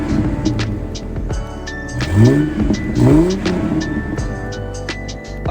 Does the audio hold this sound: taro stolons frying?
no